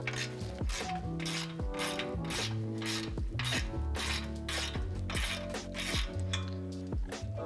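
A hand ratchet with a 15 mm deep well socket turns a tie rod end nut on a 2019 Ford Ranger, giving steady rapid clicking throughout, close and fairly loud with metallic pawl chatter and no talking.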